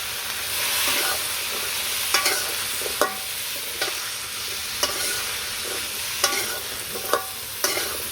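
Vegetables with salt, turmeric and chili powder stirred and fried in a pan, a steady sizzle broken by repeated scraping stirs at an even pace, close and alone with no voices.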